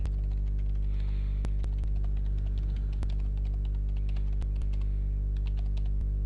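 Keys on a computer keyboard are tapped in irregular bursts of sharp, faint clicks, heard close over a constant low electrical hum.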